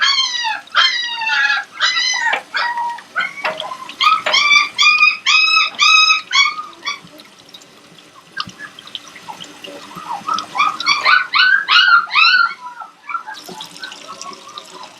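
Aussiedoodle puppy at six weeks old being bathed in a bathtub, giving repeated high, whining yelps and cries in bursts, fairly close, with a faint background of running water.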